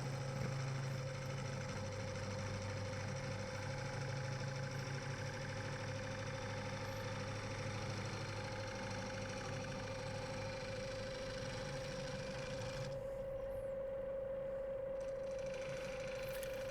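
A wood lathe turns an ash crotch bowl while a bowl gouge flattens the base, giving a steady, unbroken motor drone with a constant hum throughout, with no voices.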